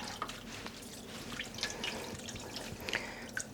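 Water splashes softly in a tub as freshly dyed yarn skeins are rinsed, with faint drips and light sloshing, quiet and close, no talk.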